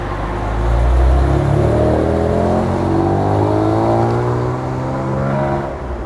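A BMW M3 engine pulls away as the car drives off, a loud close rumble that swells into revving with rising whine through the gears, then settles and fades slightly near the end.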